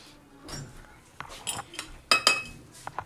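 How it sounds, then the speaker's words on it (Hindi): Semolina halwa being served from a pan onto a dish, with a few soft metal scrapes and clinks of a spoon against cookware, fairly close and quiet, in short irregular bursts with no talking. "अब हम डिश आउट कर रहे हैं।"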